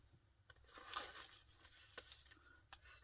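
Paper scraps in a junk journal are shuffled by hand, giving soft, quiet crinkling and rustling with a few sharper papery flicks, close but faint, with no talking.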